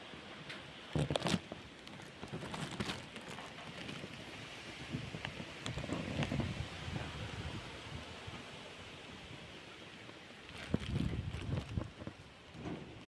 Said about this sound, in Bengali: দেখো কতটা ঝড় উঠেছে